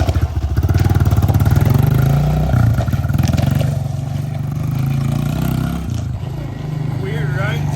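A Honda CRF125 dirt bike fitted with a BVC fat tire conversion kit revs and pulls away, its loud close engine drone pulsing and rising in pitch, with people talking over it.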